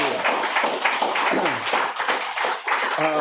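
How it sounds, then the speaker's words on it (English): An audience at a spoken word poetry event claps for the poets: dense, close applause with scattered individual claps and a few voices mixed in, holding steady throughout. "Round of applause for all our poets."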